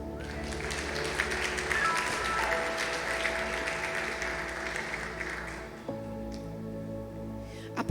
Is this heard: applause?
yes